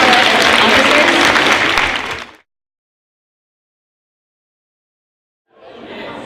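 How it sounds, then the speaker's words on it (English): An audience at a February 2016 community show gives a round of applause for the student officers, loud and dense for about two seconds before cutting to silence, with a fainter patch of sound returning near the end. "can you give us a round of applause for our officers?"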